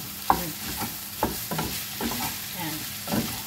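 Ground meat stir-frying in a pan, with a steady sizzle broken by repeated scraping stirs at irregular intervals, heard up close with no talking.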